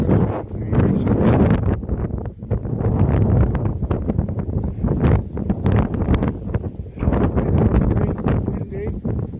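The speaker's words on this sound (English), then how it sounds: "Windy." Strong wind blowing outdoors buffets the microphone in loud, sustained gusts with rumbling low roar that rises and falls throughout, dominating the scene.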